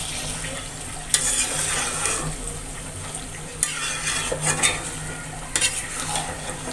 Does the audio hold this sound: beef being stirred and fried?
yes